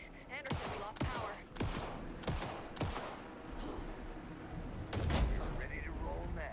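Gunfire in the video game Alan Wake 2 rings out as several loud, separate shots in the first few seconds, followed by a heavy boom over a dense, rumbling game soundscape.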